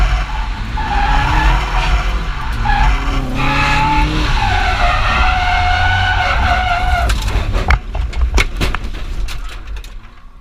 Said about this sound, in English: I wallop straight into the barrier.